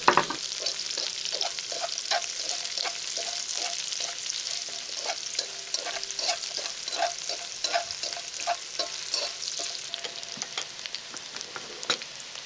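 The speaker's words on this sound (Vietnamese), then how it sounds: "mình cho ngay hành tím cắt lát vào để phi thơm nha" Sliced shallots hit hot rendered pork fat and sizzle loudly, with repeated scraping stirs in the pan, while cooking fish braised with pickled mustard greens.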